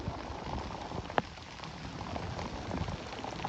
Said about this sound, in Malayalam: മഴ നിങ്ങൾക്ക് കാണാലോ ഒടുക്കത്തെ മഴ കേട്ടോ